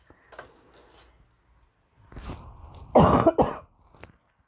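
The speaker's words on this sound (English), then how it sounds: "Sorry, I had a cough." Two harsh coughs close to the mic, preceded by some rustling and a throat-clearing sound, with quieter shuffling noises around them.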